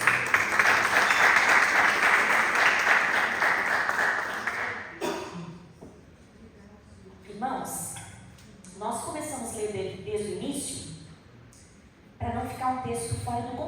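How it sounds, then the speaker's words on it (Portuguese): Church congregation clapping in praise, a dense burst of applause for about five seconds, then fading into scattered voices and music. "Palmas que exaltam Jesus."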